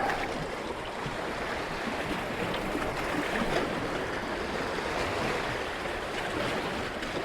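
Water laps and gurgles steadily along a Lake Michigan beach, a continuous close wash of small waves with a faint breezy hiss and no voices.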